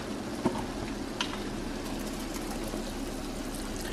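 Milk poured into pasta cooking in a pan, a soft steady trickle and splash under a low hiss, with a couple of brief clinks near the start.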